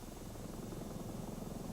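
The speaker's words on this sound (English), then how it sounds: "helicopters recovered Shepard and his spacecraft in the Atlantic Ocean" A helicopter flies during the Atlantic Ocean recovery of the Mercury spacecraft Freedom 7, its rotor and engine making a steady, even rumble that holds throughout without a break.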